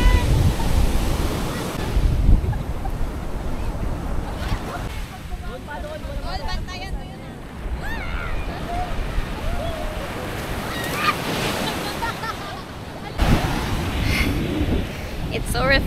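Surf rolls and breaks along a beach, a broad wash of water and wind with swells rising and fading, while people chat and call out nearby over the waves.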